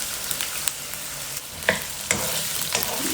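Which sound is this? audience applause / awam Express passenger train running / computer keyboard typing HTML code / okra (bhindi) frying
okra (bhindi) frying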